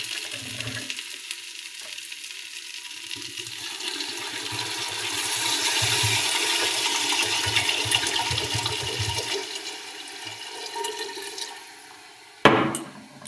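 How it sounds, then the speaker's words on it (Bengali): Water poured into fried Gobindobhog rice and mung dal in a hot pot, a rising rush of hissing, bubbling steam that swells for several seconds and then settles, ending with a sharp knock of utensil on metal. "এরপর জল দেবো।"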